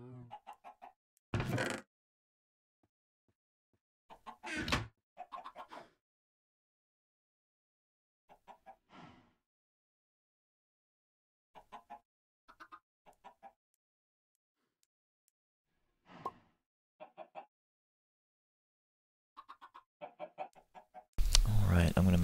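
Minecraft chickens clucking in short, separate bursts with long quiet gaps, fairly close and clear, ending in a louder sustained burst of noise.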